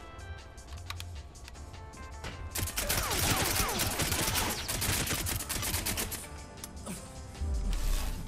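Shotgun and submachine gun fire in a video game sound in a dense, loud burst of rapid shots, close by and continuing for several seconds with a final heavier thump.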